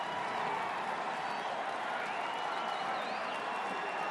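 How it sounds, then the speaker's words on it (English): A baseball stadium crowd at a Cardinals–Cubs game roars steadily after a three-run home run by a rookie, a broad continuous wash of cheering and clapping with no break. "Listen to that crowd."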